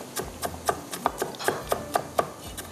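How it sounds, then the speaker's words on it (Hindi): Close, brisk knife chops on a cutting board as an onion is finely diced, about a dozen crisp, regular taps at roughly four per second, with no voices. "इसके बाद इसमें जाएगा ये प्याज को भी थोड़ा सा हम बारीक चॉप कर लेते हैं।"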